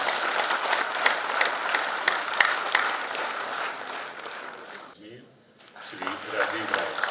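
An audience at the closing ceremony of National Road Safety Month, attended by the Lt Governor, claps in a full, even wave for about five seconds. A short lull follows, then a voice begins speaking.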